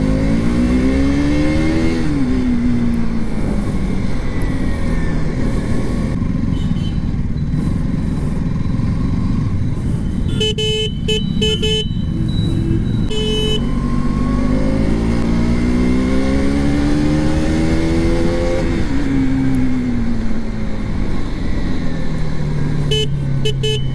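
A KTM RC 200 BS6 motorcycle engine revs loudly while riding, rising and falling through gears with steady road and wind noise. A brief horn toot is heard midway.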